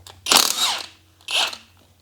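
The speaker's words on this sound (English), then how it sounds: "we're gonna remove all these 19mm bolts securing the axle to the hub" Two bursts of a power tool, likely an impact wrench, loosen 19mm bolts holding the axle to the hub on a Cummins-swapped Land Cruiser: a longer buzzing rattle, then a shorter one after a pause, close and fairly loud.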